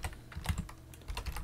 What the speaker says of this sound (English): So I will type Ollama list,